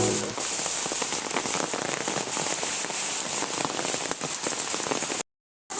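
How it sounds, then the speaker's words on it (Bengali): Heavy rain pours steadily, a dense hiss of drops drumming on surfaces nearby, cutting off abruptly near the end. "কি প্রচণ্ড বৃষ্টি পড়ছে দেখো"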